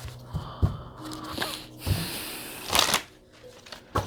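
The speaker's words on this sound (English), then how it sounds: "Let's get one last card of advice." A deck of Goddess Power oracle cards shuffled and cut by hand, with soft riffling flutters and several crisp slaps as cards are drawn, close and fairly loud with no speech.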